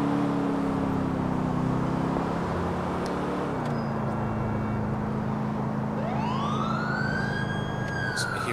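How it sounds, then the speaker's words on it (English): Police siren in GTA IV wails steadily over a low engine rumble, then a second siren sweeps upward as it closes in, loud and continuous throughout. "So we hear a siren there"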